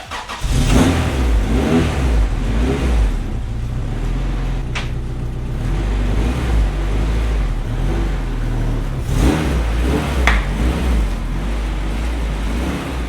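A Honda car fitted with Maxpeedingrods coilovers pulls out on a test drive, its engine loud and close with a continuous droning rumble and low road noise throughout.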